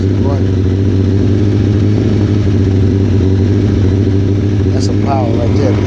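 An old school 750 motorcycle with a WD exhaust revs hard and steadily, its loud mid-pitched engine roar sustained throughout, with someone talking over it.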